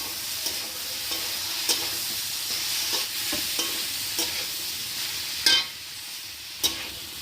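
Soaked raisins being mixed into a frying pan for vegetable fried rice, with a soft sizzle under scattered scrapes and clinks of a spatula against the pan, close and fairly quiet.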